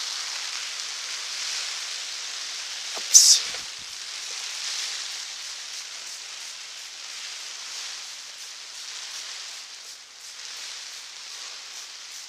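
Heavy rain and wind sweep through an outdoor garden as a constant broad hiss, broken once by a short bump and a quick exclamation.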